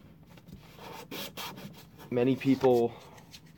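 A plastic bank card is rubbed against sandpaper in rhythmic back-and-forth strokes, a close dry scratching that sits under a voice as he talks.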